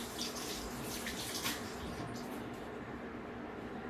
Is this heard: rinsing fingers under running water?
yes